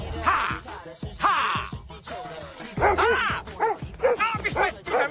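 Dogs in a film scene bark and yip in quick, uneven bursts, loud and close, with some whimpering mixed in.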